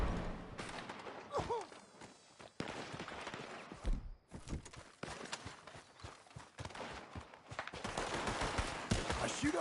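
Gunfire in the Red Dead Redemption 2 video game: loud, close shots and rapid volleys in uneven bursts with brief lulls, building toward sustained shooting at the end, with shouting voices in the fight.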